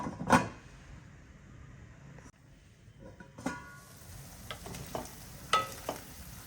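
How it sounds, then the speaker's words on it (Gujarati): Sabudana khichdi being stirred in a pan, with a few scattered scraping strokes over a faint sizzle, fairly quiet and spaced apart, no talking. "તો આપણે વચ્ચે એક વખત હલાવશું બે ત્રણ મિનિટ ચડવા દઈશું"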